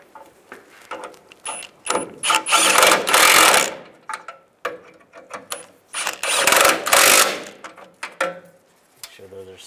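A ratchet tightens transmission mount nuts on a Chevrolet Silverado, heard as close, clicking bursts of rapid pawl ticks in two main runs, separated by quieter handling clatter.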